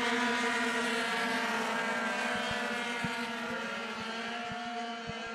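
Small 70cc scooter engines whine and rev at high pitch during a race at Salbris, several racing past with shifting tones, moderately loud and steady.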